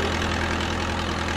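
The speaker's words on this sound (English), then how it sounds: "Turn on the engine, lift the fork, tilt the mast, shift the forward reverse lever" Forklift engine idling in a VR forklift simulator game, a steady low mechanical drone running evenly throughout with no talk.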